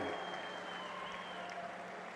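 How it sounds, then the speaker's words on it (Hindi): A large crowd at a farmers' rally in Nizamabad, Telangana, claps loudly and continuously in thanks, a dense, steady roar of applause filling the space. "अपने स्थान पर खड़ा होकर जोर से ताली बजाकर धन्यवाद करिए हल्दी बोर्ड के लिए।"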